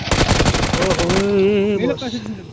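Automatic gunfire in the battle royale game PUBG, a fast rattling burst of shots over the first second, followed by a voice speaking.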